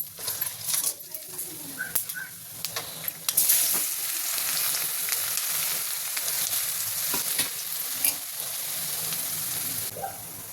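Fennel seeds and garlic sautéing in hot oil in a pan, a bright crackling sizzle with scattered stirring clicks and scrapes, close and steady, with a voice speaking intermittently over it.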